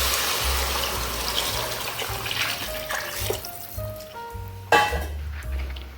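Heated water poured from a pot into a cooking pot for lentil rice: a close, continuous splashing and trickling pour with clinking of metal vessels and a sharp knock near the end.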